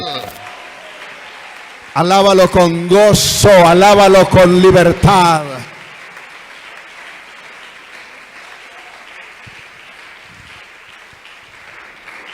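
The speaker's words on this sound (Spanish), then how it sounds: "Fuerte ese aplauso para Él." Church congregation applauding steadily throughout, with a loud sung line rising over the clapping for a few seconds early on before the applause continues alone.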